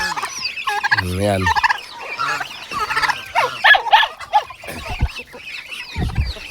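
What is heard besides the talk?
turkeys gobbling at feeding time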